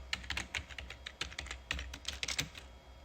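Rapid, irregular keystrokes on a computer keyboard as someone types a short sentence, close and clear with crisp clicks and brief pauses, and no voices.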